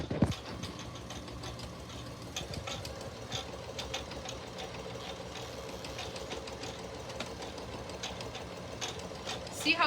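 A sewing machine stitches an outdoor swing seat cushion, running in a steady close mechanical chatter with short bursts at the start and end, and a voice talks faintly over it.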